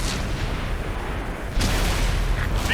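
Chieftain Mk6 tank main gun fires in an Xbox One video game: one loud, broad boom lands about halfway through, over a steady rumbling game background, with no talk.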